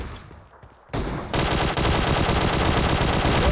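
Rapid automatic gunfire in the battle royale game BGMI, a dense sustained burst that erupts loudly after a brief quiet stretch.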